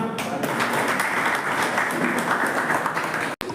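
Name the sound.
audience applause at training camp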